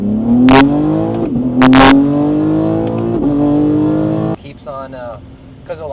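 An 800hp BMW G80 M3 launches hard, its engine note climbing steadily through the revs loud and close for several seconds before cutting off abruptly, with people talking over it.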